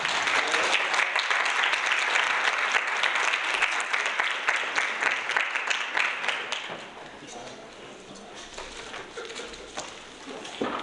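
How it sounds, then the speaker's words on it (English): Audience applause at a poetry slam, dense clapping that fills the room for about seven seconds before thinning to scattered claps and crowd murmur. "So let's clap it up."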